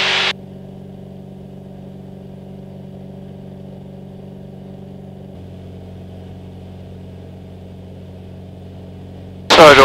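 A Jabiru light aircraft engine drones steadily and loudly through climb-out from Murray Bridge, holding an even hum that drops slightly in pitch about halfway, with brief radio-like bursts at the start and end.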